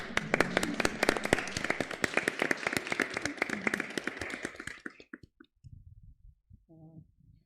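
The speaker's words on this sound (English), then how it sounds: "a round of applause for Célica." A small audience claps at a presentation during an international experimentation residence, brisk overlapping hand claps for about five seconds that quickly thin out and fade into scattered quiet taps and a faint trailing voice.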